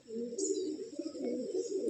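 Pigeons in a loft give a low, continuous murmuring coo, soft and steady across the whole stretch, with a faint high chirp near the start.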